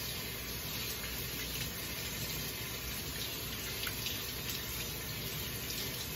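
Tap water runs steadily into a sink as hands are rinsed, a continuous close hiss and splash with no pauses.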